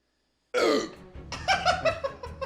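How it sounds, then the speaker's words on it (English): A loud, abrupt belch opens, then a string of shorter, wet, voiced burps and gulping sounds follows in quick succession, close up with no other noise. "you can't stop the burp"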